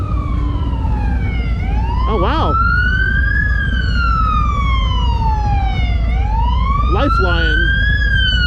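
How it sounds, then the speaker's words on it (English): Emergency vehicle sirens wail loudly and continuously while passing during a Harley-Davidson LiveWire electric motorcycle test ride, the tone sweeping up and down in slow cycles with a short yelp burst twice; someone speaks briefly over it. "I hear sirens."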